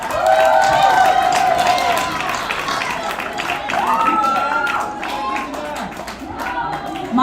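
A crowd cheering and clapping at an event where people are about to have their heads shaved, with loud, sustained whoops and shouts over rapid applause that rises and falls.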